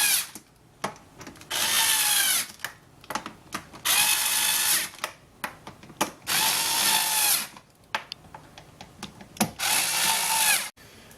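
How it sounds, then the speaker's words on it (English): A power screwdriver tightens screws on a dishwasher door in four long whirring bursts, separated by short pauses filled with clicks and handling knocks, loud and close with no talk. "all the screws are in place now, so we're just going to go back and tighten all of them"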